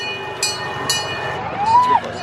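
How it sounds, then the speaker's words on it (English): A passenger train ride with children aboard: a steady, low rolling rumble, with a brief rising whistle-like tone near the end, under nearby voices. "We're gonna ride on the train."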